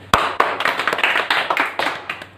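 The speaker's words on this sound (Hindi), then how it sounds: "सब लोग उनके लिए ताली बजाओ." A street magic show audience claps for a young volunteer, giving a short outdoor round of sharp, separate handclaps that start with a loud clap and continue unevenly at moderate volume.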